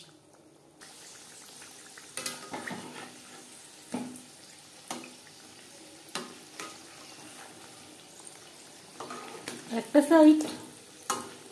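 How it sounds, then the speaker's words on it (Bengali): Chicken patties frying in a pan, a soft, low sizzle under scattered clinks and handling noises, with a brief louder burst of spattering near the end and a few quiet spoken words. "একটু সময় নিয়ে ভাজতে হবে"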